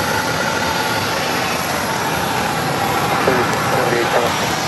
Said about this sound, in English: It'll be American Airlines Flight 195 coming in from London to Phoenix Sky Harbor, 777.